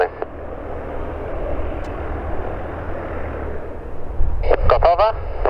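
An easyJet airliner takes off from runway 27, producing a loud, steady broadband jet roar throughout, with short bursts of radio chatter near the end.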